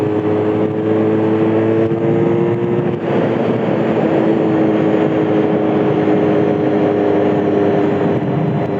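A small, light Honda RVF400 four-cylinder motorcycle engine revs loudly and steadily through the mid-range, a close, sustained high-pitched drone with shifting tonal bands and no talk.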